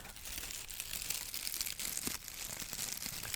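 Packaging paper is crinkled and crumpled close up in continuous, dense rustling bursts with brief crisp crunches, steady and fairly soft with no talking.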